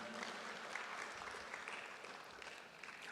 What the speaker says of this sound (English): Do we give them a round of applause, ladies and gentlemen?